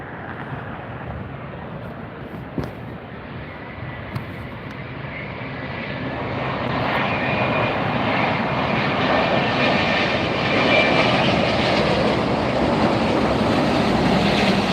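An Airbus A350-900 jet lands at LAX in evening light, a broad roaring engine rumble and rushing air that swells louder over about fifteen seconds as it passes close by.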